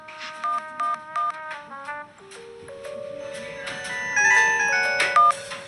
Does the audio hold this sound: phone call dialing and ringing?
yes